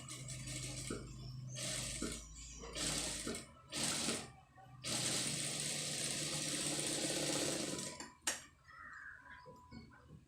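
A sewing machine stitches embroidered blouse fabric in several sustained whirring runs, broken by short stops and a sharp click, close and steady.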